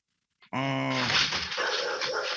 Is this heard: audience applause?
no